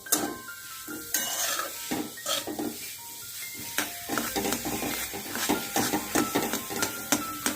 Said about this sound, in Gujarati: માવો જ્યારે શેકો ત્યારે એને હલાવવું ખૂબ જ જરૂરી છે